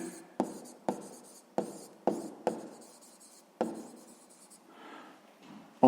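Pen strokes write out a sixth-grade maths solution: a series of sharp taps and short scratchy strokes in an uneven rhythm, close and fairly quiet, ending in softer rubbing.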